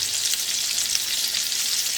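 Pork chops browning in a hot pan, a bright continuous sizzle and crackle of frying fat, steady and close with no talking.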